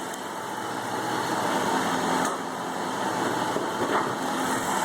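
A Dodge Charger's 5.7-litre Hemi V8 with an aftermarket exhaust idles nearby, a steady, moderately loud rumble with small swells around the two- and four-second marks.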